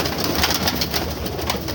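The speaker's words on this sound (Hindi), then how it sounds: "ये कबूतर देखें सामने" Pigeons at a bird market in Shahdara coo softly amid a dense, steady outdoor hubbub, with no clear speech over the brief stretch.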